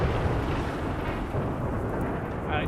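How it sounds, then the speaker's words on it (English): A thunderstorm in a video game makes a loud, continuous low rumble of thunder and storm noise that fills the short stretch without a break. "And this thunderstorm can stop now"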